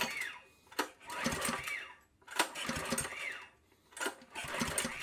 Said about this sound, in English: Now I'll pull the start cord and we'll see if it lights up.